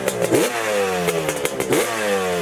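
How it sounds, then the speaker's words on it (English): A two-stroke Yamaha motorcycle engine revs in quick, rasping blips, pitch sweeping up and down twice with a crackly, clattering edge, loud and close with no talking. "including a two-stroke Yamaha that you could hear from a distance"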